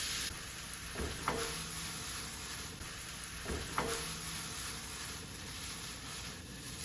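Chorizo browning in a pan for a tater tot breakfast casserole, a soft, even sizzle with two brief scraping knocks from a utensil, close but fairly quiet and without voices.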